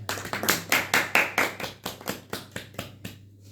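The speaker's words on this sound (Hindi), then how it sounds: "एक वक्त ताली बजाओ बच्चे के लिए।" A small audience claps for a child at a spiritual gathering, with a burst of brisk, overlapping hand claps that swell, then thin out and fade over a few seconds. No one speaks.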